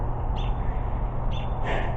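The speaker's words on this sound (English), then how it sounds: "if you can hear the birds, I was walking around in their garden, so they're pissed" Agitated garden birds squawk and caw in bursts over a loud, constant outdoor rumble, with harsh calls repeating a few times.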